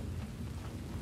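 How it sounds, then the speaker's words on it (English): Rain pours steadily at a campsite during a heavy thunderstorm, with a low thunder rumble rolling underneath the dense, continuous wash of rainfall, loud and close. "Dude, this storm is no joke."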